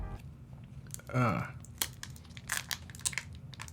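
Crinkly plastic rustling as protective film is peeled off a Samsung Galaxy Z Flip 5G phone, with a quick peeling rip near the start, followed by scattered crackles and soft handling noises, close up.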